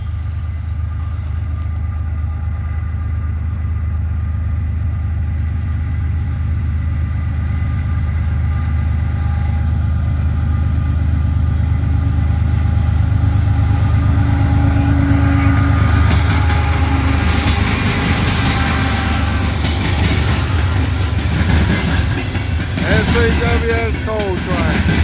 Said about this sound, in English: Looks like a coal train to me.